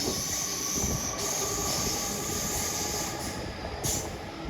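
A Sydney train, set A6, on the final run of the Bankstown line, passing close by with a continuous loud rolling roar and sustained high-pitched wheel squeal and hiss that swells and fades in places.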